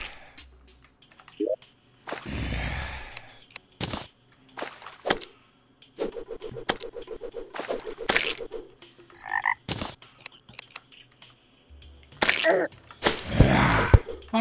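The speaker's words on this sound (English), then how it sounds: "Frog down there." Frog croaking sounds from the video game Terraria, loud and intermittent among sharp clicks and cracking bursts, with no talking.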